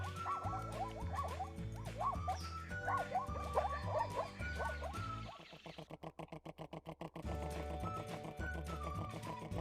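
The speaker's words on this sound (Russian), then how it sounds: "И полосатая зебра, похожая на лошадку." A cartoon zebra in a children's animal cartoon makes horse-like sounds: rhythmic clip-clopping hooves and whinnying neighs, followed by a quick run of hoofbeats.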